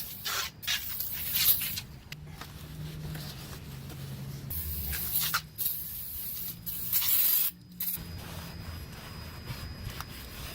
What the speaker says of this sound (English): Take some brake part cleaner and clean it off.